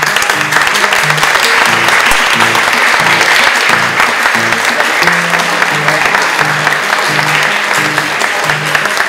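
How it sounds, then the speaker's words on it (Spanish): Loud, sustained audience applause at a book presentation of inclusive stories, steady dense clapping filling the room for about nine seconds. "del señor Eduardo Vegaso, a quien les pido hoy le concedan un fuerte aplauso"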